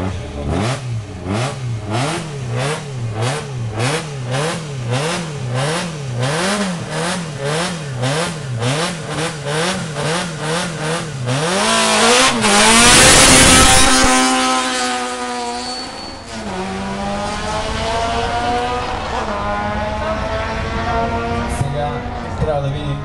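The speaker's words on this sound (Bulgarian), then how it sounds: "Валери Петров от Control Racing с Citroen Saxo в HC4 кара Валери Петров, номер 137." A Citroen Saxo rally car in the HC4 class at a rally start in Sliven, Bulgaria, sits with its engine revving in steady repeated bursts, then surges into a loud, sustained roar as it pulls away, continuing as a fading, rising engine drone.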